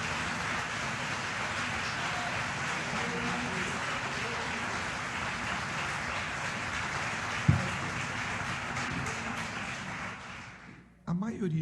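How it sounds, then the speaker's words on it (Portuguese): A church congregation applauding together: a dense, steady wash of clapping that holds for about ten seconds, then thins and breaks off near the end. "Aplauda esse Deus maravilhoso"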